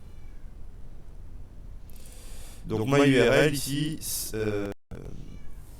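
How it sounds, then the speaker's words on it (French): A house cat meows insistently in a room, a drawn-out wavering cry followed by a shorter one, heard close by while someone speaks French around it. "j'ai un problème de chat qui miaule et c'est un peu agaçant."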